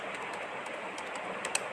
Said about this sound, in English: Now I will be typing discount